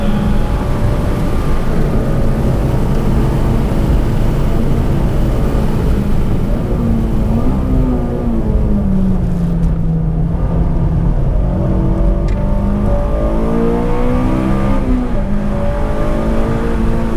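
A Honda Civic Si engine drones loudly throughout a hot lap on a race track, its pitch rising and falling through gear changes and braking, with steady wind and road roar and no talk.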